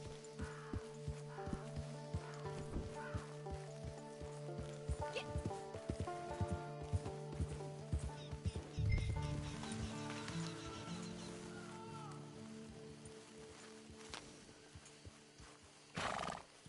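Horse neighing and hoof clops from the video game Red Dead Online, close and fairly loud, with whinnies and hoofbeats recurring over a steady tonal game backdrop and a heavier burst midway.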